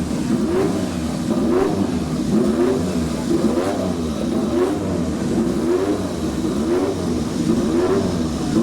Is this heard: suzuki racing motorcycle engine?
yes